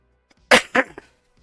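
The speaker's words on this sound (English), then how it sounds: "I meant to mute that so I wasn't coughing in your ear" A person's coughs, two strong bursts and a small third, loud and close against a quiet background.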